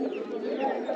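Pigeons cooing at a busy pigeon market, a steady low murmur of several birds close by, continuous through the whole second with no clear talk.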